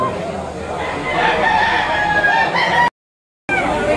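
A rooster crows loudly nearby at a poultry auction market, a drawn-out call with clucking fowl around it, briefly cut by a moment of silence.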